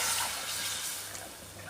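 Kudampuli tamarind water, boiled beforehand, pours into a pan of fenugreek fish curry. A continuous, splashy liquid pour runs close and fairly loud, easing slightly toward the end.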